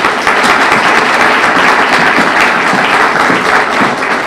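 An audience welcomes Professor Karen Stohr to a talk on manners with loud, steady applause. The dense clapping holds evenly for about four seconds and carries no speech.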